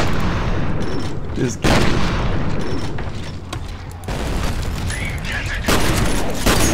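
Loud shotgun blasts and heavy gunfire echo through the first-person shooter F.E.A.R., booming in bursts with mechanical clatter between them, while someone talks briefly over the combat.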